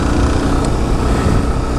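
Suzuki DR-Z400 motorcycle engine running at a steady drone, close and fairly loud, with no clear revving or shifting over the short stretch.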